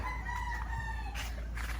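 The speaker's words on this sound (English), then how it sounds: "Can you hear the chickens?" A rooster crows with a drawn-out call while hens cluck nearby, moderately distant over a low background hum.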